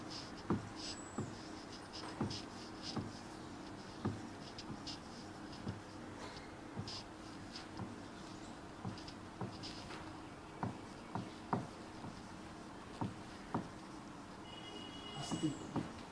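Handwriting on a surface during a chemistry lesson: faint, irregular short scratches and taps recur throughout, quiet and close against a low steady room hum.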